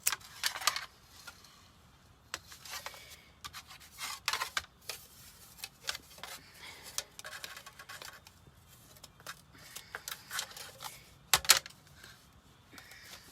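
Scissors snip off tags during a bunny welcome sign craft project, giving a scattered series of short, crisp clicks and cuts close to the microphone with quiet pauses between.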